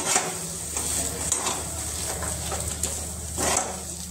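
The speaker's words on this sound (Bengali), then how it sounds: "আমি সমস্ত কিছু আবারও ভালো করে মিশিয়ে নেব মশলার সাথে।" Raw mango chop mixture with spice powder stirred in a pan, a steady scraping and light sizzle running throughout, moderately close, with a few louder scrapes.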